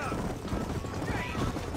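Hooves of a tired horse in Red Dead Redemption drum in a quick, dense clip-clop gallop, loud and close, mixed with game sound effects and a voice talking over it.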